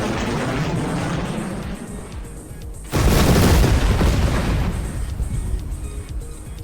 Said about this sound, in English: For cluster bombs, it sends a cluster bomb to the locked spot, with different sizes and categories available.